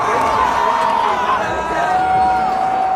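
A large crowd at X Games Aspen men's ski big air cheers and whoops continuously, a dense roar of shouting with babbling voices mixed in and a few higher whistles or yells rising above.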